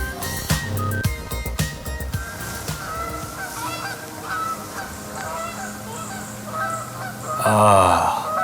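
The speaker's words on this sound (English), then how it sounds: "Nothing but the birds singing" Geese honk loudly and repeatedly outdoors in a dense, overlapping chorus close by, with a burst of harsher calls near the end, under a steady wash of background noise.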